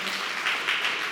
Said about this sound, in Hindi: क्यों ना हम उनके लिए जोरदार ताली बजाते हैं।